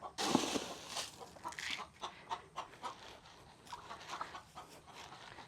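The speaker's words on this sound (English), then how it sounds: "So looking at this flock of chickens" A flock of chickens with newly hatched babies clucks and squawks close by on a farm in the morning, giving one loud call at the start and then a steady run of short repeated clucks.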